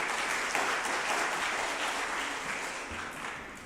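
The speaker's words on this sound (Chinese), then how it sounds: "我们用拍手来欢迎他，谢谢。" A church congregation claps in sustained applause during a Sunday worship service, a dense, steady patter of many hands filling the room and slowly tapering off.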